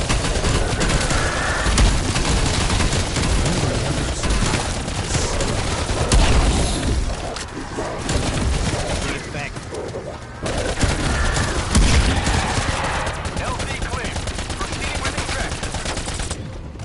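Dense video game gunfire rattles loudly and continuously, with bursts of automatic fire and booms layered over a busy, noisy background.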